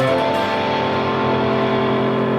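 A sustained electric guitar 6-9 chord rings out clearly and steadily, full and bright, with no talking over it.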